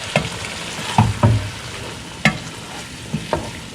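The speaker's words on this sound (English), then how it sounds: "So, we're going to stir in the salsa." Salsa stirred into a pot of simmering soup, a few scraping spoon strokes and soft thumps at irregular intervals over a low bubbling hiss, close and moderately loud with no talking.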